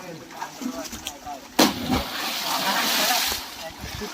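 Someone swimming in a village well makes a sudden loud splash partway through, followed by churning, sloshing water that echoes off the well walls, with faint voices in the background.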